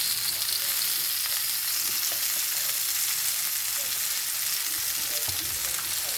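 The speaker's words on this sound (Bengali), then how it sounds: "আলুগুলো এখন ভালো করে মশলা কষিয়ে নেব" Potatoes sautéing in an onion and spice masala in a hot pan, a steady dense sizzle with faint stirring, close and unbroken.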